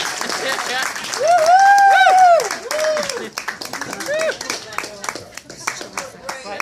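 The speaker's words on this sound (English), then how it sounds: "please clap your hands really hard" A comedy audience gives a standing ovation to a blind stand-up comic, clapping that builds to scattered sharp claps, while a loud voice talks over it near the start.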